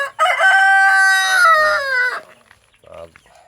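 A Rhode Island Red rooster crows once, loud and close, in a backyard coop, followed by a few softer clucks.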